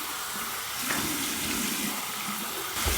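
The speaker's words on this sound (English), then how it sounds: "here's my cold water rinse" Cold water runs steadily from a bathroom tap for a rinse after shaving with a safety razor, a continuous close splashing hiss with a few brief surges as the water is disturbed.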